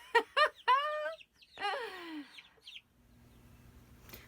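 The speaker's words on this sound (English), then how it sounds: "Raising chickens. Look at them." Backyard chickens giving loud, close clucks and squawks in quick bursts over the first few seconds, then fading to a faint low hum.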